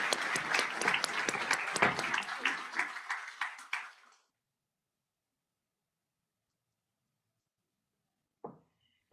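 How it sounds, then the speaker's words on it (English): An audience at an education convocation claps for an award recipient, brisk applause for about four seconds that fades out, then silence and a short burst of sound near the end. "We've done a lot of clapping"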